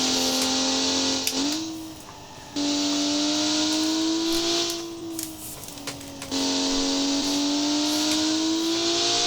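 A simulated Crown Model 8 car in the BeamNG driving game accelerates hard, its engine droning loudly at high revs with pitch dips at each gear change, continuous and alone without talk.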